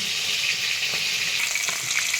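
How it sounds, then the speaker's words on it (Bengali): Small fish fry in a pan with a steady, close sizzling hiss, flecked with soft pops and crackles and no other sound over it. "আর মাছটা ভাজা হতে হতে"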